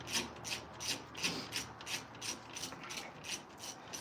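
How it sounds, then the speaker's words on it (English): A Harbor Freight golden ratchet turns a fastener on a Ford F150, with quick, evenly spaced clicks repeating about four times a second, close by and fairly quiet, with no voices. "That's the luck of the Harbor Freight golden ratchet, folks."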